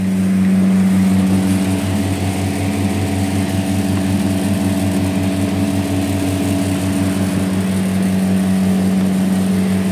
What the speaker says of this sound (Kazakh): 2 вентилятор жасап тұр нормально.